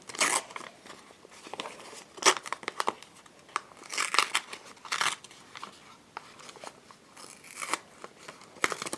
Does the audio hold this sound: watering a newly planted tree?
no